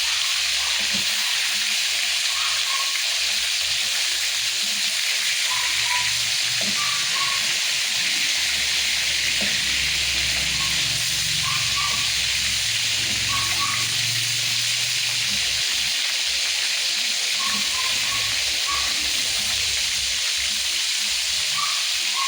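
Food frying in a pan as it browns, a steady close sizzle and hiss with scattered pops and crackles running throughout, no voices.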